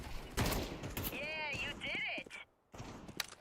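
MP9 submachine gun fire in Counter-Strike 2, with rapid bursts of shots and game effects under someone talking throughout.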